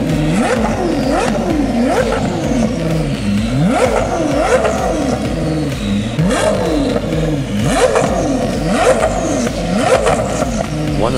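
A Koenigsegg Jesko's twin-turbocharged 5.0-liter V8, running on E85, revs loudly and repeatedly, with rising and falling engine pitch sweeping through several throttle blips across the whole stretch, close and prominent.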